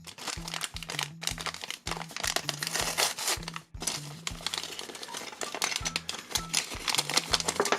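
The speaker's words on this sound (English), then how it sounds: "Not a plastic bag, it's a paper bag." A paper bag crinkling and rustling continuously up close, with brisk crunchy bursts and a faint repeating tone underneath.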